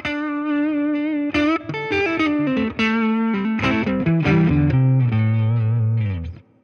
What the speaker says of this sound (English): It's definitely a brighter distortion than like a Dumble-esque overdrive